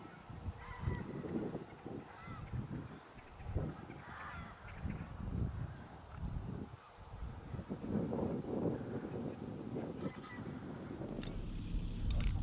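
Many geese honk continuously from a large flock, a dense, overlapping chorus at moderate distance with wind-like background noise.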